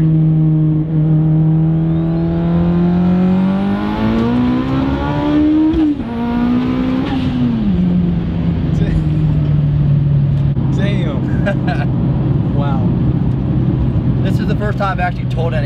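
A 900-horsepower Mitsubishi EVO 9 running 55 psi of boost pulls hard in third gear, engine pitch rising steadily then easing into a loud, sustained drone, heard from inside the car with voices talking over it.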